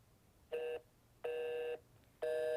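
Three loud electronic telephone beeps sound in a row after dialing, each a steady tone, the first short and the next two longer, with quiet gaps between.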